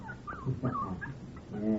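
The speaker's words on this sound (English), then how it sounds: "What do we do with the pup?" A puppy whimpers and yips in a radio drama sound effect, thin high whines and short whimpers that come up close and fairly soft, one after another, with a longer whine at the end.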